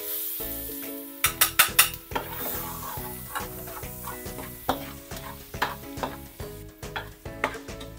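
Garlic, a whole head's worth, sizzles and toasts in a hot pan for pancit Malabon, with steady frying crackle under repeated close scraping and stirring strokes that come in a quick burst then settle into a regular rhythm.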